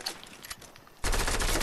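Fortnite gunfire bursting in suddenly after a quiet second, a loud dense rapid volley of shots filling the end of the clip.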